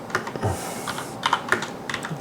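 A computer keyboard is used to type a terminal command on a Debian Linux machine, giving a close, clear run of quick, uneven keystroke clicks in short bursts, with no voice over them.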